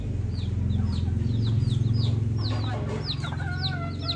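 Chickens and small chicks clucking and peeping nearby, a continuous low clucking bed with frequent high chirps layered on top, with no speech.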